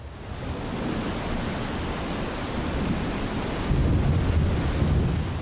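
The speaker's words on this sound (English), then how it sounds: "It's definitely spitting on the roof." Light rain spits on a roof at a campsite on the French Riviera, heard as a steady, dense hiss that swells slightly toward the end, close and continuous with no voices.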